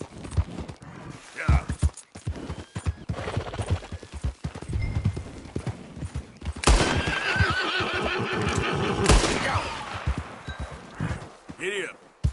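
Horse hooves clip-clopping at a gallop with loud whinnies in the video game Red Dead Redemption, a continuous rhythmic thudding that swells near the end, with people talking over it.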